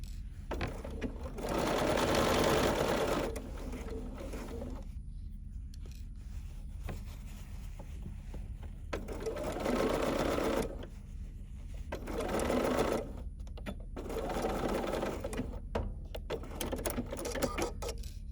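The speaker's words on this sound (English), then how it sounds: "Pull the pins out before you stitch over them." Domestic sewing machine stitching the finish of an embroidery sampler in three bursts of whirring needle noise, with quieter pauses between them, close but fairly soft against a steady background hum.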